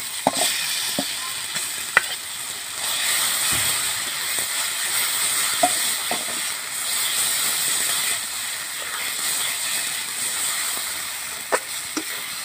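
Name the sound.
spice paste sizzling in a pan for matar paneer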